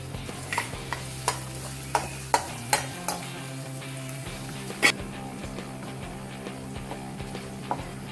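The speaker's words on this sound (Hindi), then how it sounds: "अभी ऑयल हमारा गर्म ही है इसलिए इसमें हम अभी जिंजर और गार्लिक डाल देते हैं।" Ginger and garlic sizzle in hot, previously used frying oil for cabbage Manchurian, with a steady low hiss broken by sharp clicks of a spatula stirring against the pan.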